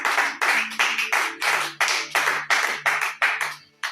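A congregation in a church claps rhythmically in praise, around a dozen crisp, loud, evenly spaced hand claps close by, with faint tones beneath.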